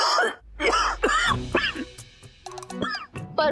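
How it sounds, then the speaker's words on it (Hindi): A few short coughs and throat-clearing grunts come in quick bursts, close and fairly loud, with brief pauses between them. "आप खांसी क्यों कर रहे हैं?"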